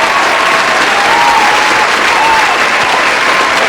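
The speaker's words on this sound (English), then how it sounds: "Round of applause, everybody." Steady studio audience applause fills the whole stretch, a dense wash of clapping at even loudness with faint cheering tones rising over it, no talk on top.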